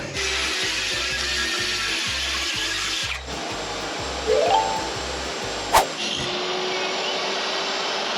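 Power saw cutting through timber for a sail barge rudder, a steady pulsing motor drone for about three seconds that then gives way to quieter workshop noise and a brief sharp knock.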